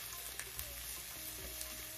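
Peppers and onions frying over medium heat in a pan for a spicy chicken liver dish, a steady soft sizzle with a few faint stirring clicks, close and continuous without talk.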